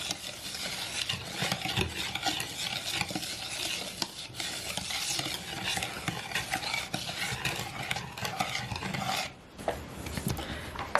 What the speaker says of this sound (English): So you just want to stir until all of the dry flour is mixed in.